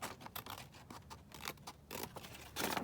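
Scissors cut paper to make a collage envelope, a rapid run of close, crisp snips and rustles with no pauses between them.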